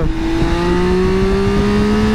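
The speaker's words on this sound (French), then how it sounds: "Et on a ce bruit de moteur, on se croirait sur" Steady, loud engine drone from an MV Agusta Enduro Veloce motorcycle, its pitch rising gradually as it accelerates, close and continuous with no talk.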